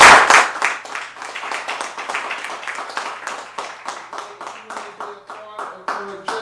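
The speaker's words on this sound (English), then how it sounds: "Let's give Dr. Rowe a round of applause" Audience applause for a speaker at a live business talk event, loud at first then settling into rhythmic, synchronized clapping with distinct individual claps and faint tones underneath.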